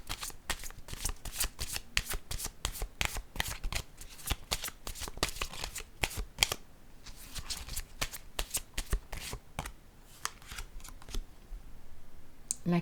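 Tarot cards being shuffled by hand in a rapid, steady run of crisp riffling slaps, close and fairly loud, with a few brief pauses and no talking.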